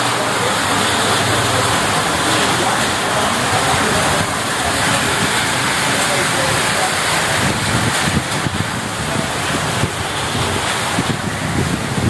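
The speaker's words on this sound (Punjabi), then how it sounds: "ਇਹ ਕਿੰਨੀ ਤੇਜ਼ ਬਾਰਿਸ਼ ਹੈ।" Heavy rain pours in a dense, unbroken roar, loud and close, mixed with gusty wind noise on the microphone for the whole stretch; no talking.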